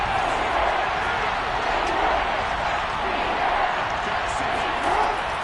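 In the Madden 22 football video game, a stadium crowd gives a continuous, loud roar that swells slightly in places and sits as a dense wash of cheering throughout.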